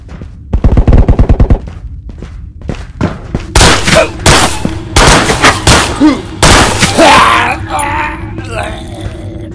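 Rapid bursts of video game gunfire, with a fast machine-gun rattle early on and then heavy, scattered shots and blasts, loud and close, mixed with grunts and groans over a steady background.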